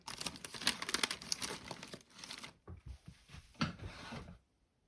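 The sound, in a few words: handling double-sided tape for craft ribbon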